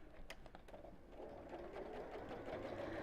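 A sewing machine stitches a boxed cushion cover around a corner with piping. A quiet, steady mechanical whirr runs at a continuous pace after a few soft clicks at the start.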